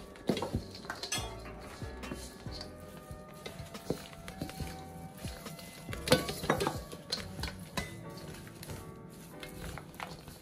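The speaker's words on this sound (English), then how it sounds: "So now I'm going to stir this up." Dry ingredients for Jamaican sweet potato pudding stirred in a bowl, a quiet scraping and clinking of the utensil against the sides in irregular strokes, fairly faint and close.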